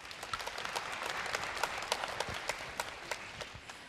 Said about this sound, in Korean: 박수로 좀 맞아주시죠.